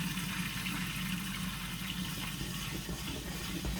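Water is poured into a pot of mutton rice during cooking, giving a continuous, even rush of liquid that stays steady throughout, close and moderately soft, with no voices.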